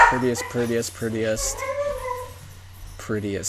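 Dogs yip and whimper faintly in the background while a person talks steadily over them, with a thin whining tone in the middle.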